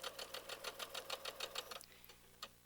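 Quilt center pieces run through a sewing machine in a brief spell of distinct, rhythmic stitch pulses that trail off into a couple of scattered clicks near the end.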